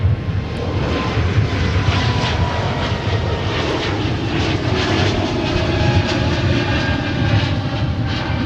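A jet airliner takes off from a runway at Minneapolis–St. Paul airport, its engines roaring loud and continuous with a broad, steady rumble throughout.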